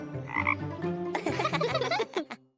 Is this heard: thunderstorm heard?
no